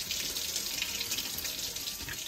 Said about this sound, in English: I like to run them under cold water